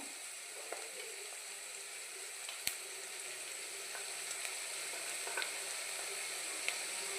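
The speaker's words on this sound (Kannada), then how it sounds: "ಸ್ವಲ್ಪ ಕಲರ್ ಚೇಂಜ್ ಆಗೋದನ್ನು ಫ್ರೈ ಮಾಡ್ಕೋಬೇಕು" Vegetables frying in a pan over a medium flame until they change colour, a steady close sizzle that runs throughout with a few faint stirring clicks.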